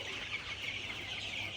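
Fifteen-day-old Color Bot broiler chicks peep and cluck together in a dense, continuous chorus, with no voices over it.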